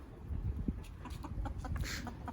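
Chickens cluck in a backyard chicken pen, soft scattered clucks and short calls close by over a low outdoor background.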